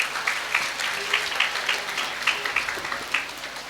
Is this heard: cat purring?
no